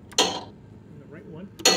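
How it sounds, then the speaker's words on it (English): Virtual pinball left flipper effect sent to a tactile exciter instead of real contactors: two sharp, fairly loud knocking thumps about a second and a half apart, with quieter room noise between. "Now I'm gonna press the left flipper."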